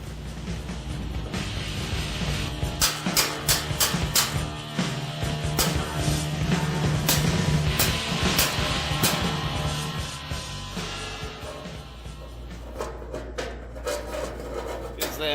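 Bolt threads on a record-speed bumper car get re-cut with a hand thread tap, giving a dry, continuous rasping scrape with rhythmic grinding strokes, close and fairly loud, no talking.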